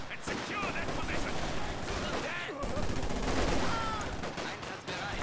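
Rapid gunfire and bursts of machine-gun fire crackle continuously through a Company of Heroes 2 battle, with in-game soldier voices calling out over the dense, loud shooting.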